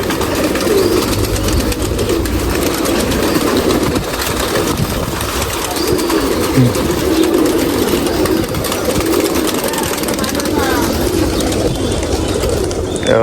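A large flock of freed pigeons at a pigeon-flying festival in CIDCO, Wadala, Nashik, coos in a dense, steady mass, with constant outdoor noise and a low engine-like hum underneath.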